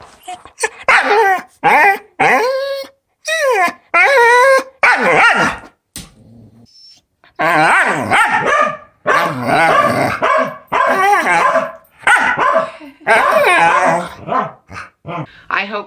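A small Spitz-type dog yips and barks in quick bursts, some drawn-out and howl-like, close and loud, with brief pauses between volleys.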